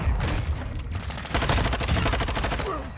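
Rapid automatic fire from a Vaznev-9K submachine gun in Modern Warfare 2, dense clattering bursts that run almost without a break and come close and loud with no talking.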